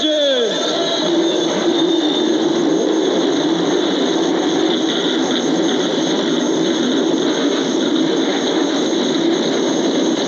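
Race car engines roar on the starting grid at Daytona for the 1999 ARCA FirstPlus Financial 200, a dense, sustained loud rumble that begins with a rising whine and holds steady for the whole stretch.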